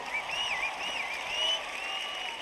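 Concert audience applauding for a guitarist at a live show, a steady, fairly distant wash of clapping and crowd noise lasting a couple of seconds with no talk over it.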